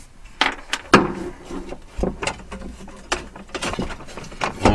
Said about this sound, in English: Phillips to undo these 4 screws holding the top cover